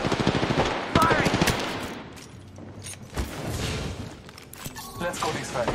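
Rapid automatic gunfire in Apex Legends cracks out in loud bursts, then fades into softer scattered shots, with a voice speaking over part of it.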